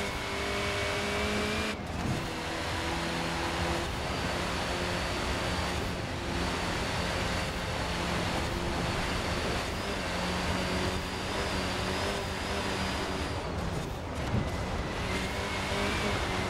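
Forza Horizon 4 Volkswagen Golf: steady engine roar with a high, sustained turbine-like turbo whine that shifts pitch slightly, loud and continuous throughout.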